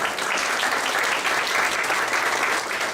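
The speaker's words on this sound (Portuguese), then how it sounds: "E uma salva de palmas a Elza também." An audience at a public hearing applauds, a dense, even clapping that fills the room at steady volume for about three seconds without a break.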